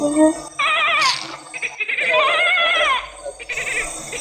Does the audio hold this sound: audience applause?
no